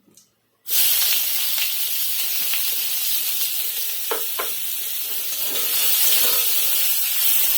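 Onions tipped into hot oil with crackling cumin seeds, cooked in the oil left from frying potatoes for rajma: a sudden loud, steady sizzle starts after a short quiet moment and holds throughout, with a few brief stirring scrapes.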